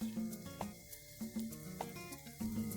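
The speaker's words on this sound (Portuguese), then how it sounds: "elas não se grudam uma na outra e assim vai se fritando" Balls of rain-fritter dough fry in hot oil in a pan, giving a steady, faint sizzle with soft bubbling pops throughout.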